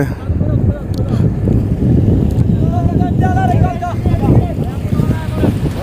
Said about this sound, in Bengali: এই যে আরেকটা নৌকা যাচ্ছে